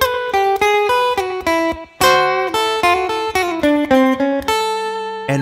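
A bluesy electric guitar lick plays alone, a brisk run of clean picked notes in steady rhythm with a few sustained tones, close and loud with no talking.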